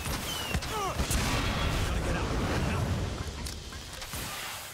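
Artillery fire in Far Cry 6, a continuous loud roar of rumbling blasts and crackling booms that fills the whole stretch, with faint whistling streaks over it.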